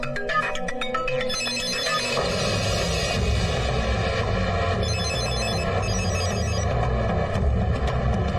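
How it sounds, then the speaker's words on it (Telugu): A telephone rings with a repeated electronic bell tone, steady and fairly loud, continuing over a low rumbling background. "ఫోన్ అన్నా"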